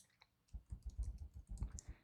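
A computer mouse clicks repeatedly on a desktop, quick soft taps in an irregular run, close and fairly quiet, with no talking.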